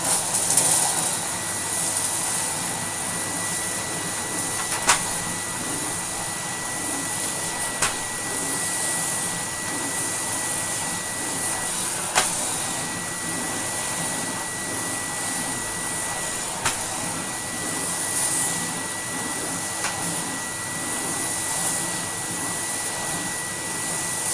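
A restored 1980s Electrolux Z2000 vacuum cleaner runs steadily on sawdust-covered carpet, a constant close whine and roar with a few brief clicks, no voices.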